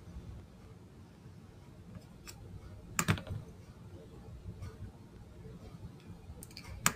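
Keys tapped while typing a file name on a computer keyboard in an office, a faint, irregular run of soft clicks with a couple of sharper strikes, heard alone over a low background hum.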